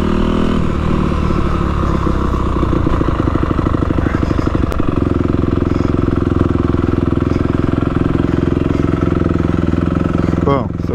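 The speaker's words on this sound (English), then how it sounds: "I'm in second gear now. And I can come into a complete stop and the bike's not gonna stall." A motorcycle fitted with a Rekluse automatic clutch rolls to a full stop in second gear, its engine a loud, close, steady rumbling chug that settles into an even idle without stalling.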